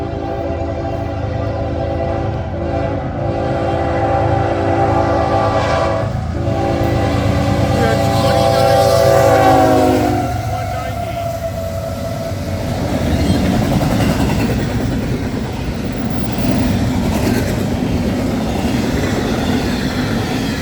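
A CN westbound freight train passing at night, sounding a loud sustained horn whose pitch drops around the middle, then heavy rumbling and clatter of cars rolling by close.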